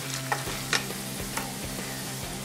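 Potatoes sizzle and fry in a pan for veg biryani, a steady close crackle with occasional stirring scrapes and soft clinks, no talking.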